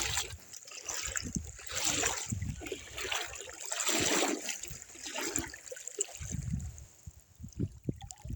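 Someone wades through knee-deep river water, making rhythmic sloshing splashes with each step. The swishes come in repeated surges that rise and fall, fairly close and moderately quiet, over a trickling background.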